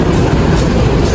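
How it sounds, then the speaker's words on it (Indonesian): Rumbling train of the Jawa Tengger railway service at Purwokerto station, a steady loud low rolling drone with faint clatter, no voices. "kereta api Jawa Tengger akan segera diberangkatkan dari stasiun Purwokerto"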